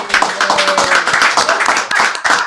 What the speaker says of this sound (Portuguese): uma calorosa salva de palmas para o Dr. Arlindo e doutora Simone